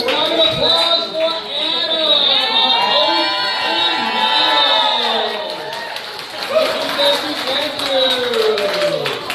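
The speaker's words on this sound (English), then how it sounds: "Round of applause for" Audience at a live art event cheers and claps for an artist, a loud sustained crowd roar with whoops and applause while a host shouts over it.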